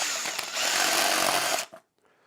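A drill bit bores into a 3D-printed plastic PC case with a loud, steady, harsh whirring grind for about a second and a half, then it cuts off abruptly, leaving a brief faint tail.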